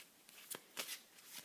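Vintage oracle cards being shuffled by hand, a few quick soft riffling flicks in a short burst, close and faint.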